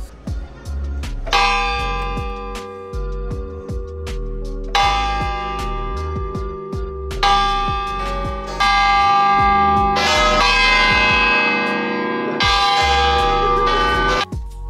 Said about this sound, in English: the bell started ringing, which was quite startling